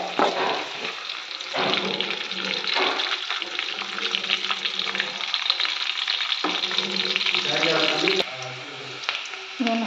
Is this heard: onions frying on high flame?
yes